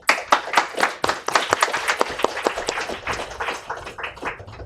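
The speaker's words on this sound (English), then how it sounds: "Give them a round of applause" An audience applauds after an academic talk on Korean Peninsula security, a close, moderately dense run of individual claps that loosens and thins slightly toward the end.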